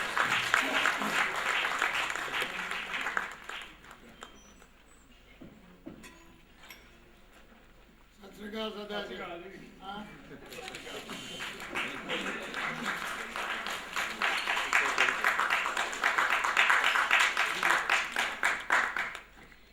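An audience at an award function in New Delhi claps warmly, a dense sustained round of applause that dips briefly mid-way, with a voice over a loudspeaker, then swells louder again toward the end.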